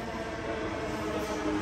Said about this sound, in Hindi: तो मेट्रो आ गई हमारी लाल किले की तरफ की।